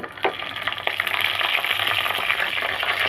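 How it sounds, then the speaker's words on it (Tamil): Mustard seeds, cumin and fenugreek splutter in hot oil while tempering for green gram sambar, a close, steady crackling sizzle with scattered sharp pops. "கடுகு சீரகம் பார்த்திங்கன்னா நல்லாவே பொரிஞ்சு வருது"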